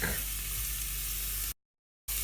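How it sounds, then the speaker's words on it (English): Garlic hits a hot pan of softening vegetables for a vegan French lentil soup, a steady close sizzle and frying hiss that cuts to silence briefly before resuming. "And we're going to add in our garlic."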